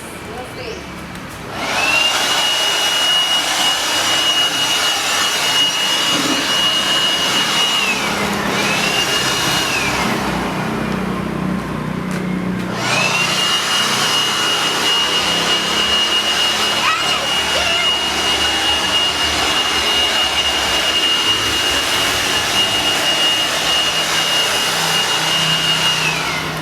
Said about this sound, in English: Now we're blowing the leaves.